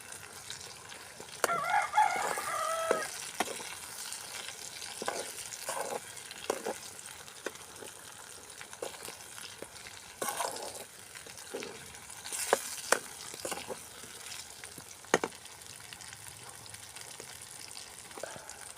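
Boneless chicken pieces with ground black pepper fry in a pan, a soft steady sizzle broken by scattered scraping clicks as the meat is stirred, moderately loud and close, with no voices.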